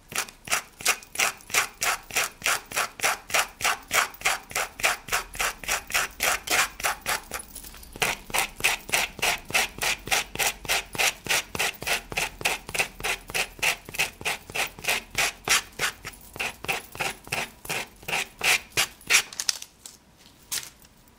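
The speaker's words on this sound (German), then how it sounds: "im nächsten Schritt mit einem Schleifblock die Kanten ein bisschen aufrauen" Rapid, evenly repeated scraping strokes of a sanding block roughening the painted edges of a wooden calendar, steady and close, continuing for a long stretch before briefly pausing near the end.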